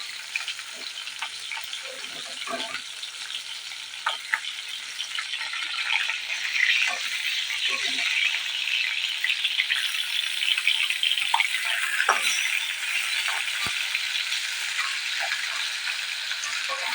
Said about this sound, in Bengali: মাছগুলোকে আমি ভালো করে ভেজে নিয়েছি